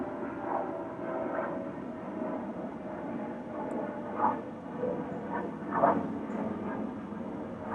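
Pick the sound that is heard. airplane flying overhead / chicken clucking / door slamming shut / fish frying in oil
airplane flying overhead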